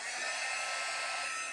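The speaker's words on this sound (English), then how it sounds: "we're going to need a heat gun" Heat gun blowing steadily on gesso, a continuous loud airy whoosh with no talk over it.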